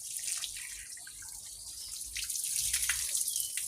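Water pours and splashes softly over a dog during a bath, in a steady, faint trickling stream that swells slightly toward the end, with no voices.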